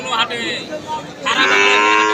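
Cattle at a busy bull market moo loudly and close by, one long drawn-out low followed by a second swelling call, with crowd noise underneath.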